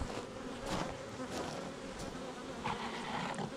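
Honeybees buzzing close by during installation of a new hive, a dense, continuous drone with individual bees swelling louder as they pass near.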